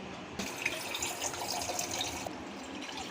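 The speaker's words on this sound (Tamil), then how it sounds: "இப்போ நம்ம எந்த அளவுக்கு நம்மளுக்கு குழம்பு தேவையோ அந்த அளவுக்கு கொஞ்சம் தண்ணி" Water is poured into a pan of Tamil fish curry (meen kulambu), a quiet steady trickling stream for a couple of seconds with faint splashes, no voices over it.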